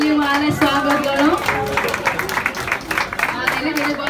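A race-results crowd claps for the winning runner at a Run For Health event: dense, steady applause from nearby spectators, with a voice or music running faintly underneath throughout.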